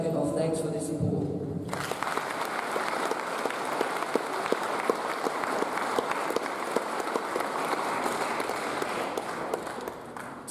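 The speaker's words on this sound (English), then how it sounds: "Can we please give them a round of applause as a token of thanks for their support?" Sustained audience applause at a school Year 11 prize giving, dense and steady clapping from a large crowd filling the hall for about eight seconds after a brief moment of talk at the start.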